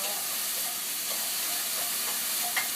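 Eggplant being stir-fried in a pan for bibimbap gives off a continuous steamy hiss and sizzle, with a faint scrape near the end.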